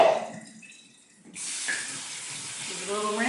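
Soaked almonds being drained in a kitchen, with a sudden rush of pouring, splashing water that starts partway through and runs steadily to the end after a quieter opening.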